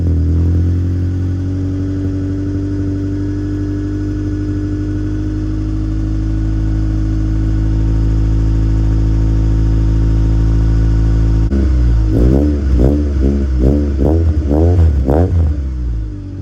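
A Honda K24 car engine runs at a steady idle, a low even rumble, then clatters with a rhythmic pulsing near the end.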